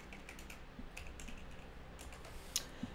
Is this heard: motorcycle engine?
no